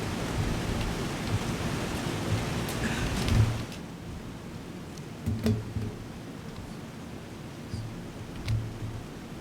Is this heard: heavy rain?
yes